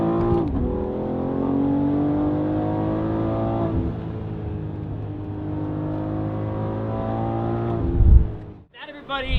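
A BMW X3M's S58 engine with a resonated equal-length exhaust revs loudly and steadily in harmonic tones, surging and falling over several seconds, then cutting off abruptly before a brief closing burst.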